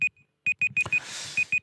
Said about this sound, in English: Oh, this flipping alarm.